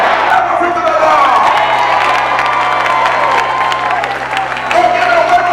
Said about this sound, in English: Clap offering to the Lord.